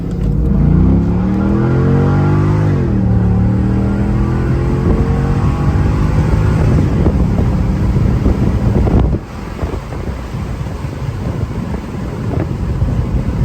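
A 2008 Chevrolet Corvette convertible with an LS3 engine revving up hard, rising in pitch through the gears, with heavy wind rush over the microphone throughout.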